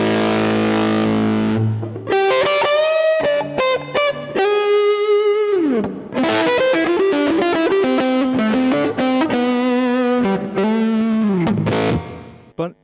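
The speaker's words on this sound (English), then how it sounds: "It's still a little bit of organic distortion here." Electric guitar played through an Ideyha Giga Distortion pedal with the amp boosted, giving loud, sustained overdriven chords and single notes with brief pauses and slides, played alone.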